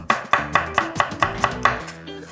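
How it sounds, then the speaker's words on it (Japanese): A knife minces vegetables on a cutting board in about nine quick, evenly spaced chops, each a crisp close knock, with no one speaking. "またさらに刻んでいきましょう"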